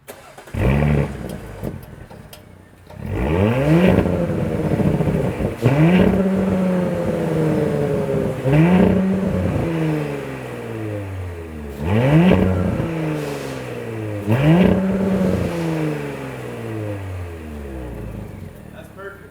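Audi SQ5 B9 with its exhaust resonator removed, revved repeatedly in about five separate bursts, each rising sharply and then falling back, loud and close; a voice is heard between the revs.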